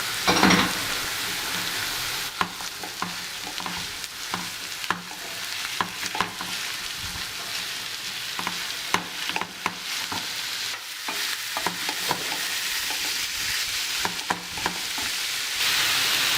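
Minced meat goes into a pan of golden onions and fries with a steady, close sizzle for the whole stretch, broken by frequent scraping and stirring knocks of a utensil against the pan.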